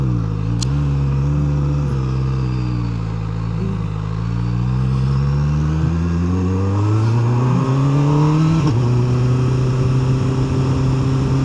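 A QJMotor SRK 921 RR sport motorcycle accelerates hard and close, its engine note climbing steadily with a brief drop at a gear change around the middle and again near the end, loud throughout with no talk.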